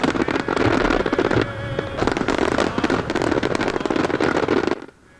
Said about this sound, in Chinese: 9000多发烟火连环炸